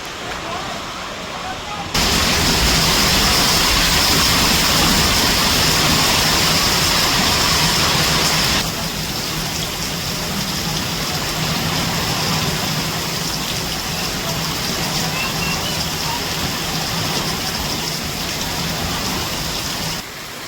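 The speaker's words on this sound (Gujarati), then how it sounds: "વરસાદ આજ હારા મારો આવી ગયો" Heavy downpour lashing down during a windstorm, a loud steady roar of rain that surges even louder for several seconds before settling into a constant dense hiss.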